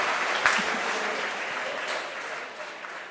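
A crowd at a SpaceX Starlink rocket launch cheers and applauds, a steady, moderately loud wash of clapping and excited voices that fades slightly toward the end.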